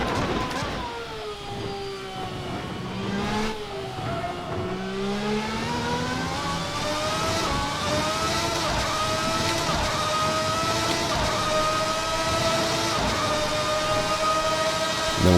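A V12 race car engine in the Assetto Corsa racing game, loud and continuous with layered tonal harmonics that dip and climb through gear changes and acceleration, then hold a high sustained whine, with no talking.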